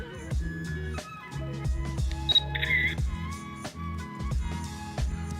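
A sharp children's camera shutter click with a short electronic beep, over steady background music.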